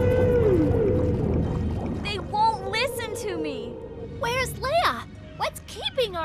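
Cartoon whales call out at sea with rising and falling whistling cries, several bursts in succession over a background of music and a voice.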